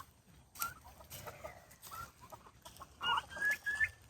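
Chickens roosting in a tree for the night cluck softly and intermittently, with a few short higher calls near the end, fairly quiet and alone.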